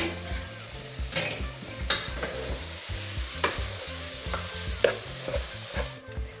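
Meat for taco soup sizzles steadily in a hot pot while a utensil scrapes and stirs through it, giving repeated knocks and scrapes over the constant frying hiss.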